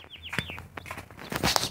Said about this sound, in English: You guys want to see my bird?